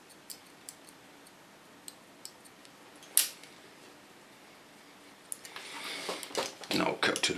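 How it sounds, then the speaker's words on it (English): Scissors cut hair for an asymmetric pixie haircut, giving sharp, quiet snips at scattered intervals, then a louder cluster of quick rustling cuts near the end. "Cut it in the opposite lines to get the hairs that get straight to the front."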